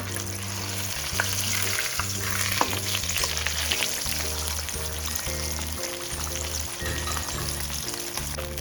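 Tilapia frying in hot oil after being flipped, a loud continuous crackling sizzle with spattering pops and a rhythmic low-pitched hum running underneath throughout.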